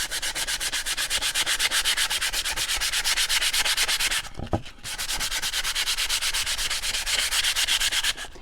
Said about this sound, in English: So you can kind of see the sanding or the distressing that I have on there.